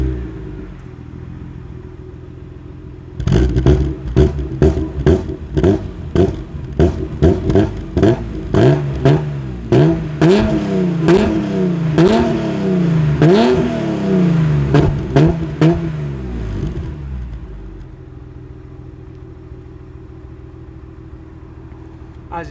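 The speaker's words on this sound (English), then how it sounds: "we'll start it up and give it some revs." A BMW E36 M3 Evolution starts up and is revved hard in a rapid series of loud, sharp blips that swell into sustained high revs, then settles back to a steady idle, heard close and alone.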